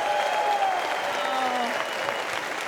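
A festival audience breaks into sustained applause, dense clapping at full strength throughout, with a faint whistle-like tone drifting over it.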